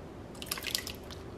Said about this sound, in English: You pour it in there.